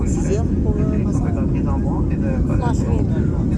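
Inside a passenger airplane taking off for Cuba, a loud, steady engine roar fills the cabin, with voices murmuring underneath.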